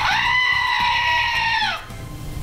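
A novelty stocking-stuffer toy goat lets out one long, loud, wavering electronic bleat that holds for nearly two seconds and then cuts off abruptly, leaving a faint background hum.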